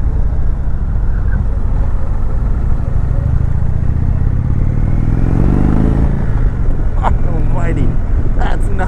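A 2019 Indian Chieftain Dark Horse motorcycle accelerating on a ride, its engine loud and close with rising pitch over rushing wind, and a rider talking over it.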